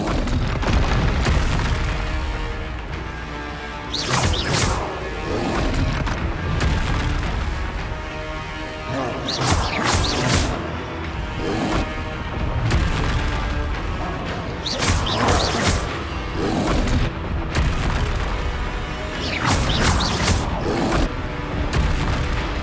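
Repeated fiery spell blasts from the Confringo fire spell in Hogwarts Legacy, heavy booming bursts recurring roughly every five seconds over a dense, loud game soundtrack.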